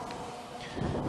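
Strong outdoor wind buffets the microphone as a broad, rumbling roar that swells louder toward the end, with no voice over it.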